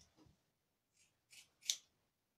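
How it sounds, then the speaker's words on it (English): Scissors snip hair in three quick, quiet cuts spaced about half a second apart, clear and close against near silence. "Let's get to snipping."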